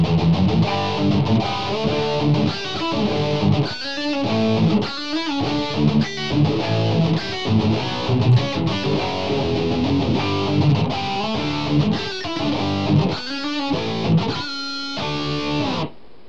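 A heavily distorted electric guitar plays a fast run, dense rapid notes at a steady, loud level from start to finish with no talking.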